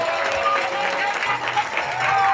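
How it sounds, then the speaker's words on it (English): A college football crowd roars and applauds after a touchdown at a Baldwin Wallace Yellow Jackets versus Capital Comets game, a loud, steady wash of cheering that fills the whole stretch without a break. "this crowd making noise once more"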